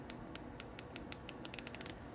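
A Craftsman V Series ratchet wrench clicks its teeth in a series of sharp, close metallic ticks, spaced out at first and then speeding into a quicker run near the end, with no talking.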